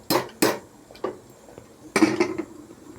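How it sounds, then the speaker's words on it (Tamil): A metal lid is set onto a cooking pot of chicken gravy with several clanks and rattles: two quick knocks, a lighter tap, then a scraping clatter as it settles. "ரெண்டு நிமிஷம் மூடி வச்சுக்கலாம்."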